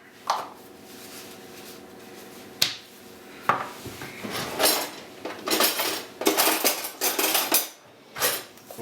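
Flour, salt and bicarbonate of soda mixed in a bowl for soda bread, a spoon clinking and scraping against the bowl in irregular bursts, with a few sharp knocks and rapid brisk stirring toward the end.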